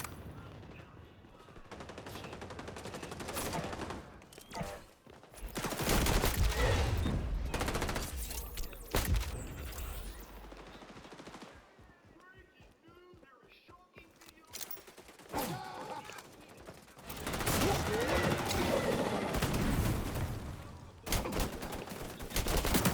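Video game gunfire in XDefiant: bursts of rapid automatic shots in dense volleys, loud and close, separated by quieter stretches with game sounds and occasional voices.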